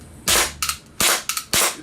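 A WinGun or WE mini Glock airsoft pistol fires three loud, sharp cracks about half a second apart at close range, each followed by a quick mechanical clack of the slide cycling, with no speech.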